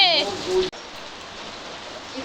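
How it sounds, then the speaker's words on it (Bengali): A voice speaks briefly at the start, then steady rain falls with an even, continuous hiss for the rest. "ওই দেখ বৃষ্টি পড়ছে"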